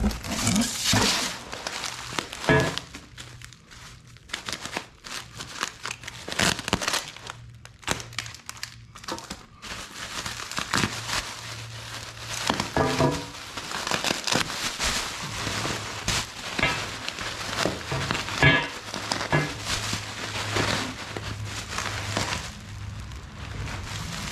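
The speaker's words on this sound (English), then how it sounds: "Tons and tons and tons of bubble wrap." Bubble wrap packing from a Warn Zeon 10-S winch and Grimm Off-Road mount being handled and pulled apart, a loud, close, irregular crackling and crinkling that runs almost continuously with a few brief pauses.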